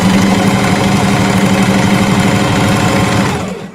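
A sewing machine runs loud and steady, stitching jelly roll fabric strips in a fast mechanical whir with rhythmic needle chatter, then slows and stops at the end.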